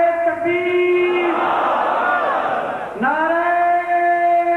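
A large crowd at a Mehfil-e-Milad religious gathering in Dera Bugti roars a loud, sustained unison response to the Nara-e-Takbir slogan. A leader's chanting voice rises before the swelling shout and again after it.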